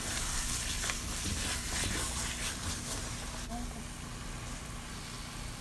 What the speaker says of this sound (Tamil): இப்போ கட் பண்ண தக்காளியை சேர்த்து நல்லா வதக்கிடலாம்.